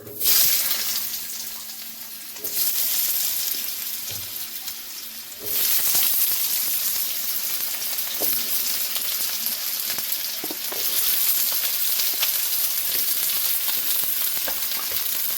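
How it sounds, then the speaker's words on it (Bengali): Potatoes, cumin seeds and bay leaf fry in hot mustard oil, making a loud, steady sizzle that briefly drops off and returns, with occasional stirring scrapes and clinks close by. "তেল গরম হয়ে গেছে, সর্ষের তেল দিয়েছি। ফোড়নে দিয়ে দেবো জিরে তেজপাতা, আলুগুলো দিয়ে দেবো।"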